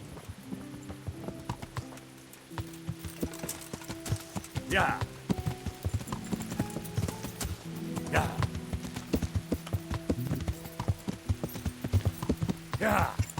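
Horse hooves clip-clop steadily in the medieval game Kingdom Come: Deliverance, a close rhythmic trot with occasional louder strikes, mixed with faint game music and someone talking over it.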